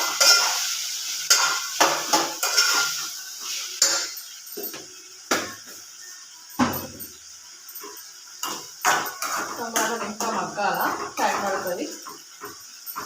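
Okra frying in a pan with salt, stirred with steady scraping and clattering strokes over a soft continuous sizzle, close up.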